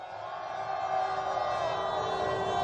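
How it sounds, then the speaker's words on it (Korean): A crowd at a Seoul street candlelight march against Yoon Suk-yeol sends up a steady, dense roar of cheering and clapping that holds loud and unbroken throughout. "큰 박수로 인사드려 보겠습니다"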